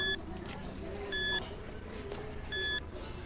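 A ghost tracker device gives three short bursts of electronic beeping about every 1.3 seconds over faint outdoor background noise.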